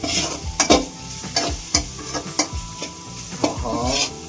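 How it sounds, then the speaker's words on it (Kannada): A spatula stirs a thick masala of garlic, tomato and onion in a pan. Scrapes and clacks come in an uneven rhythm over a soft, low sizzle, close up and with no voices. "ಬನ್ನಿ ವೆಲ್ ಮಿಕ್ಸ್ ಮಾಡೋಣ."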